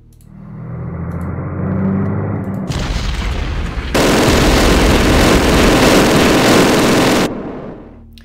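Artillery explosions in a WWII war strategy game set in the Ardennes offensive: loud, sustained booming blasts, one heavy roar starting partway through and then a broader, harsher wall of explosive noise that holds for several seconds before cutting off.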